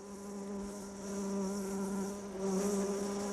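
Steady, close buzzing of male bees hovering around Ophrys orchid flowers, a continuous drone that swells slightly in loudness midway and again near the end, with no voices.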